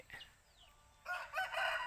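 A rooster crows faintly in the distance on a small mixed farm that keeps ducks and chickens, a short call followed by softer rustling sounds nearby.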